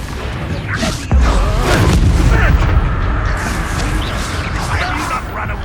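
Booming explosion from the Confringo fire spell in the video game Hogwarts Legacy, a loud blast with a whooshing rush and rumbling impact that sustains for several seconds amid game sound.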